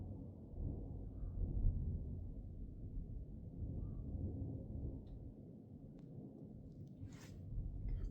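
Thunder from a storm rolls in over Montana during a hike, a faint, distant low rumble that swells and fades steadily with no voices over it.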